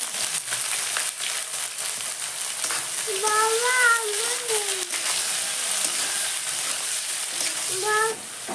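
Whole garam masala, dried chillies, cumin seeds and onion frying in hot oil give a steady, even sizzle close by, with a faint voice heard briefly in the background twice.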